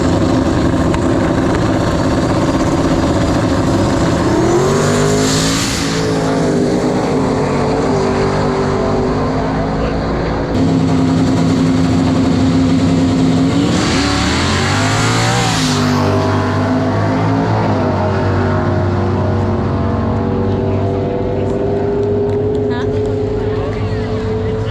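Street cars launching hard at an Oklahoma City street takeover, engines roaring and revving up in two loud surges over a constant crowd and motor din.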